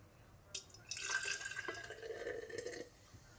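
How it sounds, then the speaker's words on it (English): Warm water poured into a cup for a loaded tea, a steady close splash that rises suddenly, runs about two seconds and stops abruptly. "I like to use a little bit of warm water because that's what they recommend. And I'll just pour it in here."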